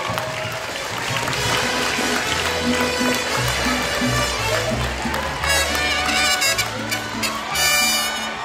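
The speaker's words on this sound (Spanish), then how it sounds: "los invito a que le demos un fuerte aplauso al maestro Eslava" An audience at a school academic ceremony applauds the director with sustained, dense clapping, mixed with music playing underneath.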